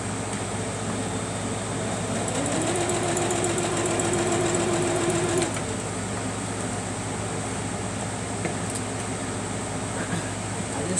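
A sewing machine stitches a quilt with a steady mechanical hum and a faint whine. It runs continuously and sounds close.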